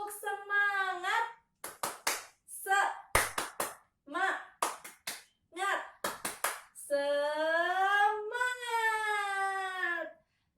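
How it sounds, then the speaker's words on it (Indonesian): A fourth-grade classroom does a rhythmic clap-and-chant routine: groups of crisp synchronized hand claps alternate with a voice chanting in between, ending in a longer sung phrase. "kita tepuk semangat dulu supaya lebih semangat belajarnya"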